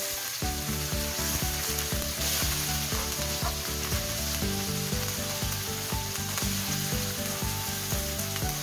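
Tomatoes hit a hot pan and sizzle steadily, a continuous bright frying hiss with light stirring, heard beneath loud tonal background music throughout.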